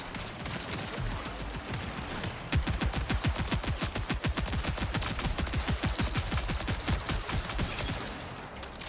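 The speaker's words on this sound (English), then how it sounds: "we get targeted from a turret from the back." Automated turret in the Marathon video game firing a long, rapid, evenly spaced burst of gunfire, starting after a couple of seconds of softer combat noise and continuing loud and steady to near the end.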